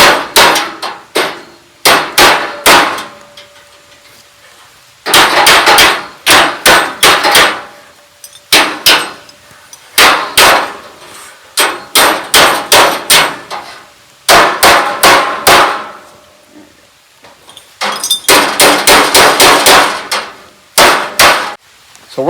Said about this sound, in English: I'm gonna take the hammer and beat that in so it'll fit a little better.